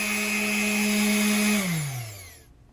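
An electric hand sander runs as a steady, loud motor whine on a stained homemade wooden workbench top, then winds down with falling pitch and stops near the end.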